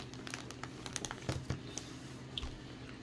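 Someone eats blue cheese flavored popcorn, giving soft, close crunching and chewing with irregular crinkly pops, quiet and without talk.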